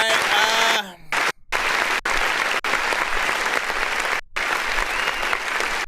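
A canned applause effect plays loudly on an online music review show, a dense clapping crowd cut by abrupt gaps and restarts, preceded by a brief musical tone.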